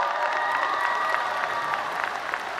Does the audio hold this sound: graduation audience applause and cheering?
yes